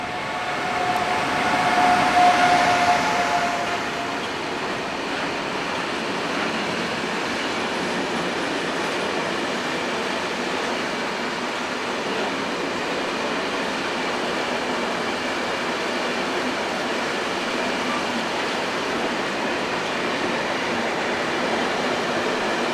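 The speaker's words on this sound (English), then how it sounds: "541105, which headed south on a train bound for Italy" Locomotive 541105 hauling a train bound for Italy, a steady, loud rolling rumble of wheels on rail with a brief squeal near the start, continuing evenly throughout with no voices.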